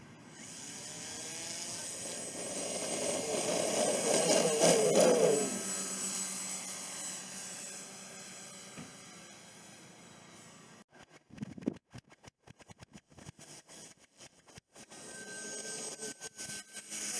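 An RC Twin Otter model airplane's twin electric motors whine and hiss as they spool up for takeoff, peaking loud and then fading as the plane climbs away, followed by gusty wind buffeting.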